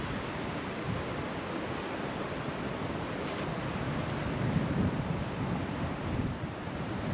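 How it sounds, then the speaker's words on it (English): Steady, roaring wind buffets the microphone throughout, a dense rumbling gust noise with no speech, like standing exposed outdoors in a cemetery in Colorado on a very cold, blustery day. "I apologize if you can hear all the wind."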